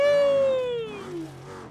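A truck engine in the BeamNG.drive driving game, off-roading on rough terrain, revs loudly at first, then its tone sinks steadily as it winds down under the rumble of the drive.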